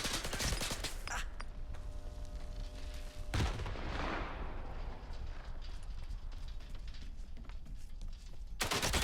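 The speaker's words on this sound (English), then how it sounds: "Brothers, I'm throwing that grenade!" A grenade detonates amid gunfire in STALKER 2: sharp bursts of shooting open the scene, then a single loud blast whose rumble decays for a couple of seconds, followed by quieter ambience and another burst of fire at the end.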